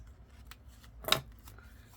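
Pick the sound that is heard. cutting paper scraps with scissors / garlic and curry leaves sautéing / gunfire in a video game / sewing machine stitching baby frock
cutting paper scraps with scissors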